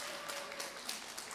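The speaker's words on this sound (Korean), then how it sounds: "여러분 큰 박수로 모셔보도록 하겠습니다" Audience clapping at a Korean youth farming and rural startup fair, greeting the CEO of an agricultural distribution platform as he takes the stage for a special lecture; a short burst of steady, moderately distant applause with no talking.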